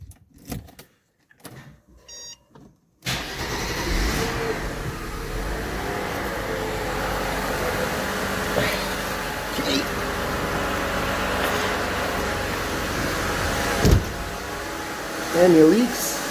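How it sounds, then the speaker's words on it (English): A Mercedes W124 convertible with KE-Jetronic fuel injection cranks and starts after a few faint clicks, then settles into a steady idle running close by, with a brief rev bump near the end. "Let's start the car."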